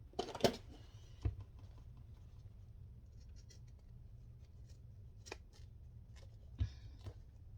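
Ordinary non-fabric scissors snip through craft material in a few sharp, close cuts spaced apart, with quiet rustling between them in an otherwise still room.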